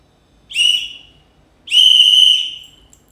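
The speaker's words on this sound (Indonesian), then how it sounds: "Kakak akan menggunakan dengan peluit." A whistle sounds the Morse code letter A in two blasts, first a short one, then a longer one, clear and loud against silence.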